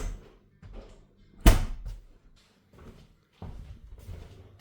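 An apartment door is opened during a return visit to a flat, giving one sharp loud thunk near the middle, with quieter shuffles and movement around it and faint voices nearby.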